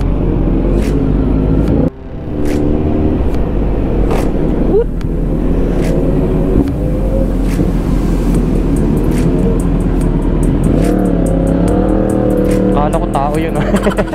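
A car with an Akrapovic exhaust is revved repeatedly at a car meet at Deerfoot City, producing loud, close engine rises and drops while people talk nearby.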